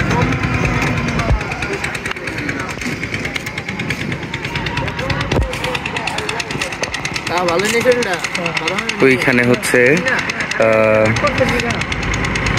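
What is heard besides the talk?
engine of an irrigation water pump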